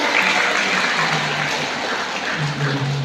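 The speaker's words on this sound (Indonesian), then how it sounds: "Tepuk tangan untuk biru." An audience of teachers at a gathering claps briefly, a dense patter of hands with faint murmuring voices underneath, lasting a few seconds.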